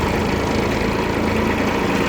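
A Mitsubishi MT155 mini tractor's three-cylinder diesel engine with a mechanical injection pump runs steadily at idle, a close, continuous low rumble with no voices.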